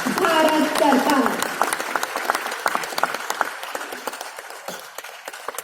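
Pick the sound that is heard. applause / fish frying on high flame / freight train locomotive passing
applause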